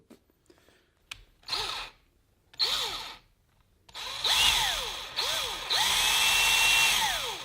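A power drill with a 3mm bit whirring in short bursts that grow longer, its whine rising and falling as it bores an angled pilot hole in a Manfrotto 546B tripod spreader, close and loud.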